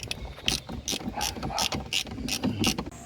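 A ratchet wrench tightens a part during evaporator cleaning on a Mitsubishi Adventure's dual air-conditioning system, giving a close, loud run of rapid clicking bursts in a steady rhythm.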